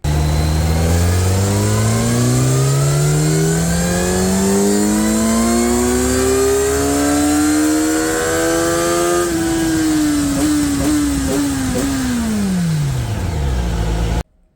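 A Kawasaki Ninja 1100 with a slip-on exhaust and stock headers revs hard up through a long, rising engine note, holds briefly near the top, then drops away as the throttle closes, loud and close with no talk.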